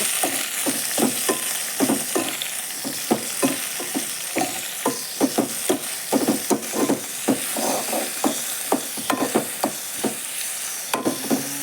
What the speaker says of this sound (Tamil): தக்காளி வெங்காயம் பூண்டெல்லாம் நல்லா வணங்கிடுச்சு